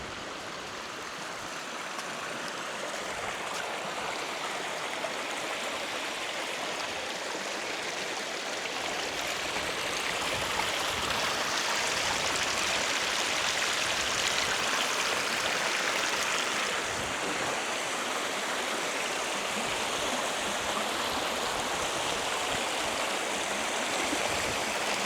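Small waterfall formed where tidal flow has washed sand away on a Fraser Island beach, a steady rushing and splashing of water that holds constant and fairly loud for the whole stretch, with no talking.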